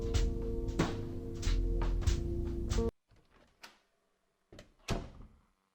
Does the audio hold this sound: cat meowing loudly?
no